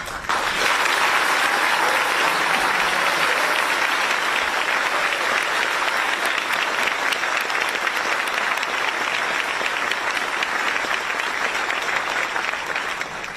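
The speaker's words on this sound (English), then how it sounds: "hope that you will stand for a round of applause" A large audience applauds steadily at an evening award ceremony, the JFK Profile in Courage Award, with dense, continuous clapping that holds at full strength for the whole stretch before easing slightly at the end.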